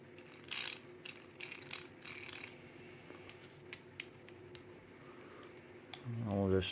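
A 25mm M3 screw being driven into a DIY sim racing surge platform's hall sensor mount gives off faint, scattered ratcheting clicks and small metallic ticks, quiet and close, ending in a brief louder tonal sound.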